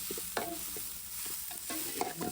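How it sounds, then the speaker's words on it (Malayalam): Onions, green chillies and ginger being stirred in a frying pan, with a steady sizzle broken by several distinct scraping stirs of the spoon against the pan, close and clear with no talking. "നല്ല പോലെ ഇളക്കി കൊടുക്കും"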